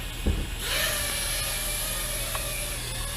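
A Syma X100 obstacle-avoidance drone spooling its motors up for auto takeoff, a click followed by a rising high-pitched electric whine that settles into a steady buzzing drone, loud and close.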